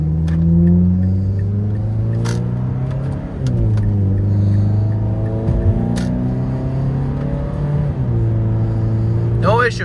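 A Mazda 3 car being driven with traction control off, heard from inside as a steady engine hum and road rumble whose pitch sweeps up repeatedly as it accelerates through the gears.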